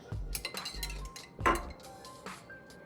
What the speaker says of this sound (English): We're just using a little spoon to put the sauce in there.